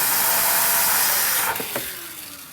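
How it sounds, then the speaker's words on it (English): A vacuum cleaner runs loud and steady while it clears the grinder of a Gaggia Anima espresso machine after the beans are sucked out, then cuts off and winds down. "just vacuum one more time after the beans are sucked out"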